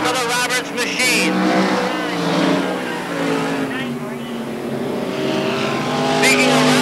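Race cars roar around the Can-Am Speedway oval, engines whining and shifting in pitch as they pass and circle, loud and continuous beneath an announcer talking over the action.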